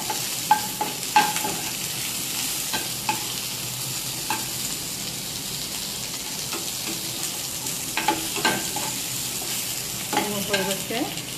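Capsicum and onion fry in a pan with a steady sizzle, while a spatula scrapes and stirs in scattered clicks and knocks throughout, close and moderately loud with no talking.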